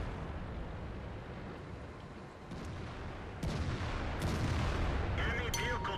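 Tank battle in World of Tanks: booming cannon fire and explosions roll under constant engine and battlefield rumble, with a sharp new blast partway through and a voice briefly sounding near the end.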